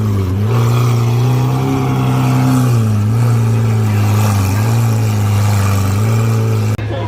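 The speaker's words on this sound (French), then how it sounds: "Pardon, le voiturier qui fait un rupteur." A hypercar engine held against the rev limiter by a valet, a loud, steady high-rev drone with slight wavering pitch that cuts off abruptly near the end.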